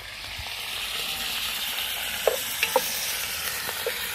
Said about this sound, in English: Give them a bit of a sear in here.